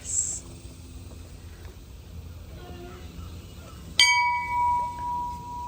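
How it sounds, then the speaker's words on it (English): A school bell rung once at a log cabin village schoolhouse, a single sharp clang ringing out and decaying with a long metallic tone after quiet room sounds and murmured voices. "Would you like to ring the bell, Miss Brenda?"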